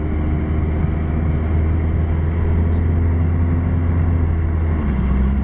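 A 1988 Honda Prelude engine drones steadily and close while the car drives, holding a loud, even low rumble as it goes into second gear, with no clear break or spike.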